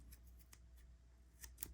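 Multi-tool scissors cutting paracord give a few quick, crisp snips, faint and close up, spaced irregularly with a final sharper cut.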